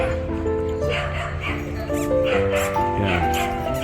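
Several large dogs yip, whimper and bark close by in a busy dog park on Piedmont Road, San Jose, a continuous layered chorus of canine voices over crowd noise and people talking.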